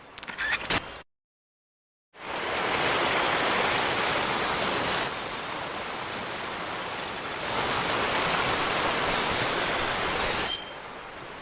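A waterfall in Metal Gear Solid Delta: Snake Eater rushes as a loud, steady broadband roar with faint clicks, after a short break of silence near the start.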